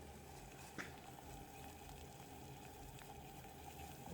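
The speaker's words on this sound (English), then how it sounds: "The water's making the boiling noise too" Water churning at a rolling boil with big bubbles in a pot over a camp stove burning Everclear, a faint steady bubbling hiss with no voices.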